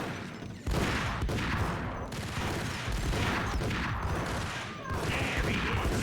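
Rapid gunfire in a video game shootout, dense continuous volleys of shots that run nearly the full length, loud and close, with a brief lull near the end before the firing resumes.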